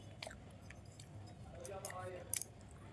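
Someone eating a meal of rice and boiled potatoes chews softly and close, with faint moist bites and a couple of brief sharper clicks.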